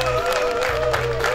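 An audience applauds at an awards ceremony for a gateball tournament as the second-place team is honoured. The clapping is mixed with crowd murmur and a steady background tone, and it runs continuously at moderate volume.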